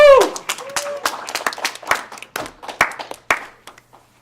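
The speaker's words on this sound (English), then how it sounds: "Let's give yourselves a big round of applause" Scattered hand claps from a small audience at a fashion careers event, starting with a whoop and continuing as uneven, separate claps rather than a dense roar, fairly close and moderately loud.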